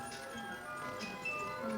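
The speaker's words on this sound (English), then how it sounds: "We put the music box against the wood, and the wood will resonate the sound" A music box plays with its tines pressed against wood in a Black Forest cuckoo clock shop, a steady tinkling melody of high, bell-like notes that rings out at moderate loudness over a faint room murmur.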